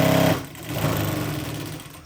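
A Jack JK-2060 industrial walking foot needle feed sewing machine running its automatic bar tack, a short burst of fast motor stitching that cuts off quickly, followed by a lower mechanical whir.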